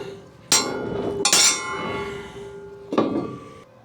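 A hammer strikes a bent metal trailer part to straighten it, three ringing metallic clanks spaced over a few seconds, close and loud with a lingering tone between blows.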